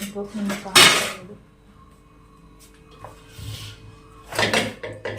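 A heap of dishes, pots and pans being cleaned, with a few loud metallic clanks and clatters separated by quieter gaps, close by and without talk.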